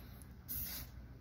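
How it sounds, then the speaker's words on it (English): A VS1 Refresh lemon-scented deodorizer spray is pumped inside a KD4 basketball shoe, giving a single close, soft hiss of about a third of a second over quiet room background. "you just spray it inside the shoe to remove any bad odor"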